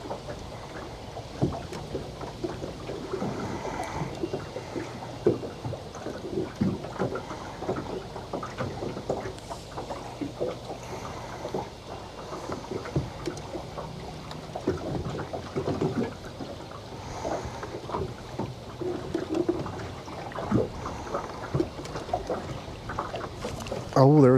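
Fast, heavy water rushing through a river chute, a steady loud broadband roar with someone talking over it throughout.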